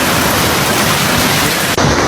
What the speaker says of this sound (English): That is the river.